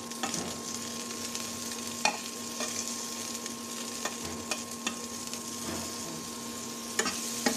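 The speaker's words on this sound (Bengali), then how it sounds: "আমি মরিচগুলো টেলে তুলে নিচ্ছি" Chilies fry in hot oil in a pan for a mashed bhorta, giving a steady, close sizzle with scattered sharp clicks from stirring throughout.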